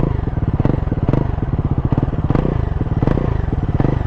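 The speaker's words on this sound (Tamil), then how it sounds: "நெக்ஸ்ட்டு வந்து த்ராட்டில் நீங்கள் பாருங்கள் வண்டி பீட் எப்படி இருக்குன்னு" A Bajaj Pulsar NS400Z motorcycle with an underbelly exhaust idling close by, a loud deep throbbing engine beat with rapid regular pulses and periodic throttle blips rising slightly in pitch.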